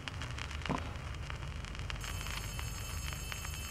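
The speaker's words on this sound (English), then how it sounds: "I hear a phone." A telephone rings in the horror video game Poppy Playtime Chapter 3 as a fast, rattling bell trill that repeats steadily, faint and somewhat distant over a low rumbling ambience.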